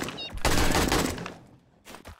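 Gunfire at an enemy in 7 Days to Die: a loud, close volley of overlapping shots that fades, then a shorter burst rings out at the end.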